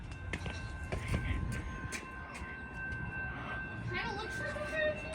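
Amtrak Piedmont number 80 train passing near a crossing, with a low rumble, sharp knocks and a faint tonal horn or bell, while people talk quietly nearby.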